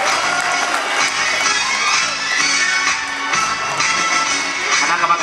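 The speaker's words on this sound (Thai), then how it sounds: "ขอเชิญชวนทุกท่านปรบมือให้กับนักกีฬาอีกสักครั้งหนึ่งครับผม" Stadium spectators at a 3,000 m university track race cheer and clap for the athletes, a steady broad wash of crowd noise lasting throughout with faint scattered voices inside it.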